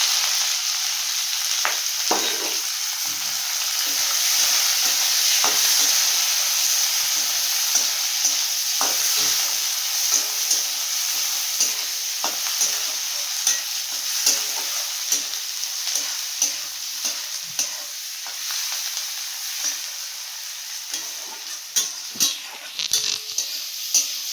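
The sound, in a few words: onion frying and sizzling in oil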